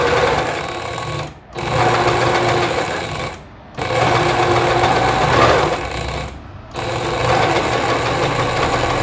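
A sewing machine runs steadily while stitching the lining of a tailored flared skirt, its fast mechanical whir continuing in long bursts broken by three brief pauses.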